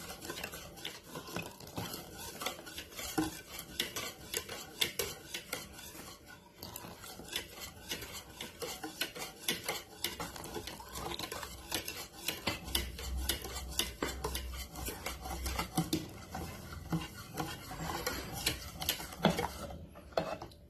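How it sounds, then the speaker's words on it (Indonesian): Batter for a steamed pumpkin cake is whisked by hand in a bowl, a steady run of rapid scraping and clinking strokes that goes on throughout, fairly close, with no talking. "Ini sambil dikocok dimasukkan sedikit-sedikit ya, seperti ini."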